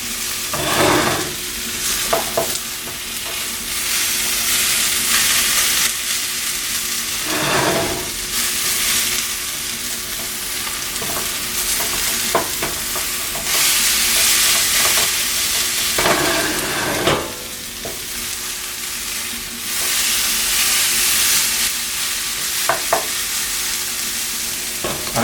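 Veggie fritters frying in a pan with a steady, loud sizzle and crackle throughout, broken by a few brief scraping stirs of a utensil, with no talk.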